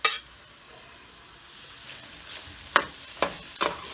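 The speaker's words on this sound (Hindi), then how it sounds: "ये जो हमने बॉईल किया था कीमा, वो डालेंगे।" Boiled minced meat (keema) frying in a pan, stirred with a few sharp scraping clatters of the spoon near the end over a faint sizzle, close and quiet, with no talking.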